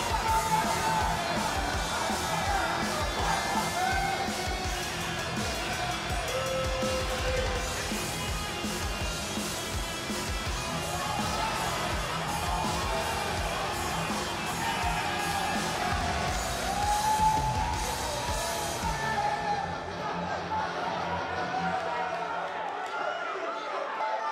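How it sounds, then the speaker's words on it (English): Wrestling crowd at an ROH singles match cheers, whoops and yells steadily throughout, a dense continuous roar with a few louder swells before it fades out at the end. "And Michael, it sounds to me like this crowd already picked the one who they want to win this match"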